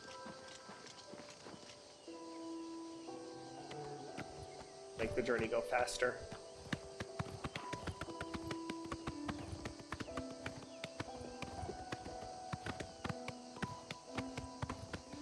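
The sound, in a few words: horse hooves clip-clopping in Oblivion Remastered video game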